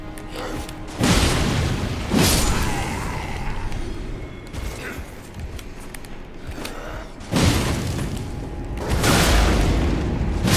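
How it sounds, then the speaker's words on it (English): Explosive barrels bursting in the Elden Ring video game during the Promised Consort Radahn fight, a series of loud, heavy booms with rumbling tails that recur several times over a continuous battle din. "Thank you for destroying the barrels."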